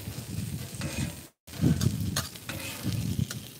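Jalapeno chicken fried rice sizzles on a hot griddle, a steady close crackle with bursts of stirring and scraping and one very brief dropout.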